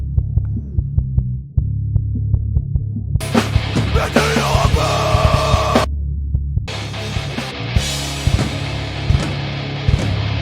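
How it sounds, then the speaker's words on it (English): A throbbing, pulsing bass line in a mix that switches into a gritty, saturated distorted tone from a saturation plugin in stretches, with bright harmonics appearing and dropping away. "Distortion, right? Saturation."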